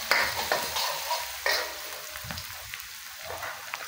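Sliced garlic sizzles steadily in a pan for chicken adobo while a utensil stirs and scrapes it. A few sharper scrapes and clinks sit over the close frying hiss, with no talking.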